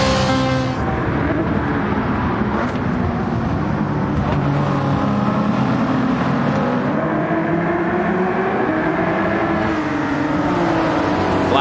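McLaren and Ford GT race cars in Gran Turismo 7, racing in the Rolex 24, give a loud, continuous engine drone whose pitch rises and falls as the cars run close together.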